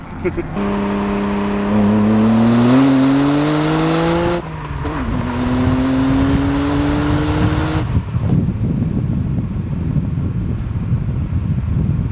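A Nissan R32 Skyline GT-R with a new exhaust and a twin-plate clutch pulls hard while driving. The engine note climbs through two loud, rising rev runs, then drops to a rumbling cruise, with wind buffeting the microphone and some voice underneath.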